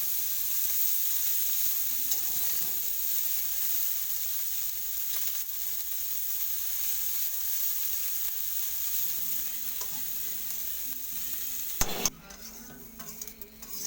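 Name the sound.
fish frying in a pan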